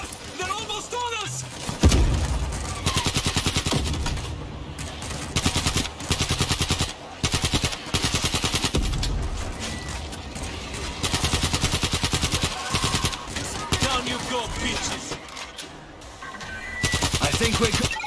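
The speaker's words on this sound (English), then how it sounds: "We're hearing gunfire from the river." Sustained bursts of automatic gunfire and single shots in the World War Z video game's Moscow level, loud and rapid with a rumbling background, while voices shout over the shooting.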